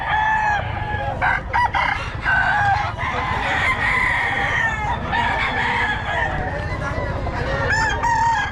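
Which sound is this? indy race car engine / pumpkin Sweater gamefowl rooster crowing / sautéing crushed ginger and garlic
pumpkin Sweater gamefowl rooster crowing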